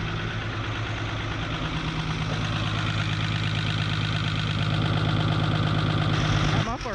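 1975 Chevy stepside diesel engine running through a muffler, a loud, steady, close idle with a rhythmic knocking chug and a brief rise in revs near the end; a voice speaks over it.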